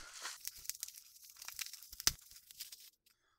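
Packing tape peeled off a 3D printer part, close and quiet, a series of sharp crackling rips and crinkles that stop abruptly at the end.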